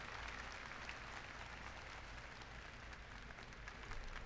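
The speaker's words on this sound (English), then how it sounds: "another round of applause for them" An audience at the EVO 2022 Tekken 7 top eight tournament gives a round of applause, a steady, moderately distant wash of many hands clapping that holds evenly throughout the short stretch.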